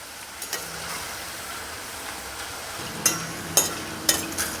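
Kathiyawadi tikha gathiya fry in hot oil with a steady hiss, and three crisp metallic scrapes near the end mark the strands being turned over with a utensil.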